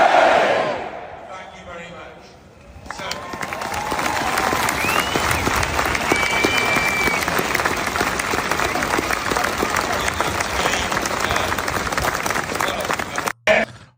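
Big farmer protest crowd in the UK making a steady roar of cheering and clapping that runs loud and unbroken for most of the stretch, after a quieter opening with a voice speaking.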